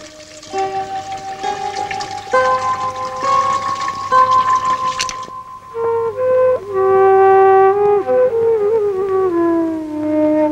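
Water pours noisily into buckets, splashing and gurgling close by, with the ringing tone of the filling vessel shifting in pitch as the water rises.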